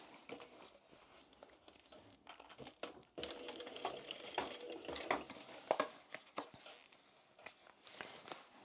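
A domestic sewing machine stitches down seams on a tote bag in short, quiet runs, close by, mixed with light clicks and handling taps of fabric and tools, with no talk.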